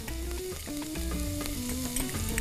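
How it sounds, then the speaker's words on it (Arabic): Minced garlic, about four or five cloves, sizzles steadily in hot oil in a heated pan, a continuous frying hiss running beneath background music. "انا عندي طاسه سخنه هحط لها شويه زيت زي ما انتم شايفين كده وعندي توم مفروم"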